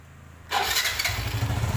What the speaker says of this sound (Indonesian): pada saat double starter itu berputar